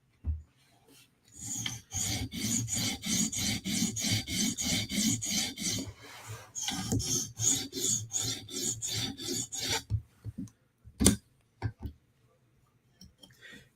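A Lil Native knife with an S90V steel blade is drawn across a coarse TSProf Kadet sharpening stone, giving steady back-and-forth rasping strokes in a fast even rhythm, pausing briefly midway and ending with a few scattered scrapes.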